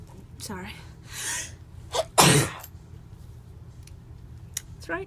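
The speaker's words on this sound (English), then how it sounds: "I'm just gonna keep sneezing now" A person sneezes once loudly and sharply during a rainbow loom crafting session, with a short breathy intake beforehand and some soft rustling and small clicks around it.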